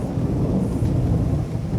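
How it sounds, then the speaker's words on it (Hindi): Heavy rain pours steadily outside with a deep, continuous rumble of thunder underneath, dense and loud throughout with no voices. "हया, क्या तुम इस बारिश में पैदल आई हो?"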